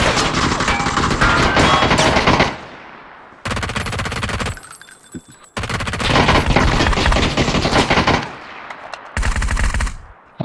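Sustained bursts of P90 submachine gun fire in a video game, loud and close, coming in long rapid strings separated by brief pauses, with no talking over the shots.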